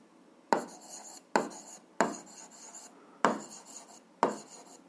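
Pen or chalk writing out an algebra problem: five distinct scratchy strokes, each starting with a sharp tap and trailing off, spaced about a second apart, close and quiet.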